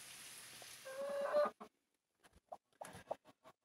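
Newly hatched chicks give a few faint, thin peeps over a soft background hiss, followed by sparse scattered clicks and rustles, with no voices.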